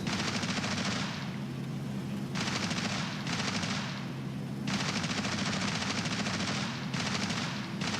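Long, loud machine gun bursts from War Thunder simulator battles, dense rapid fire broken into several sustained strings with short pauses, over a constant engine drone.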